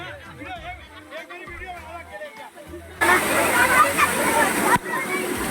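Waterfall in Rishikesh, the third fall up the trail, roaring as a broad steady rush that swells loudly from midway, after an opening stretch of people talking and chattering nearby.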